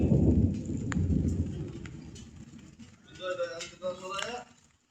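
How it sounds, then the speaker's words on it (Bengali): Rain pours outdoors in a storm with a deep rumble of thunder, loud at first and easing, while faint voices or calls rise briefly near the end. "বৃষ্টি পড়তেছে অলরেডি"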